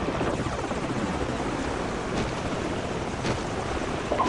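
Enemy helicopters in Call of Duty 4: Modern Warfare, a dense continuous rotor roar with a passing sweep, loud and near, filling the whole stretch without voices.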